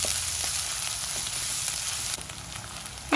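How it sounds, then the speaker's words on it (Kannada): Onions fry in three to four spoons of oil in a pan, producing a steady, close, hissing sizzle that softens slightly near the end before a brief clatter. "ಒಂದು 3-4 ಸ್ಪೂನಷ್ಟು ಎಣ್ಣೆ ಜೊತೆ ಈರುಳ್ಳಿ ಹಾಕ್ಕೊಂಡು ಫ್ರೈ ಮಾಡ್ಕೊಳ್ತಾ ಇದ್ದೀನಿ."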